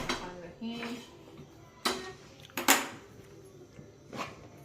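A frying pan handled in a home kitchen before making fried onion-tomato chutney: a few sharp metallic clanks and knocks of cookware and utensils, spaced apart at close range over quiet background.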